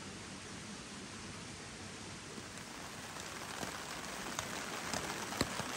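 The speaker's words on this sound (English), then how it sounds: "The morning had brought along rain." Rain falling steadily outdoors in the Irish countryside, a soft continuous wash of drops with a few slightly nearer patters, quiet and even throughout with no talk.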